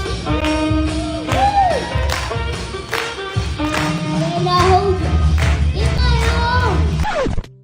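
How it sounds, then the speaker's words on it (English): A crowd claps along in rhythm to a song, steady hand claps layered over the music and vocals, loud and close, continuing through the whole stretch. "when they started clapping to the song"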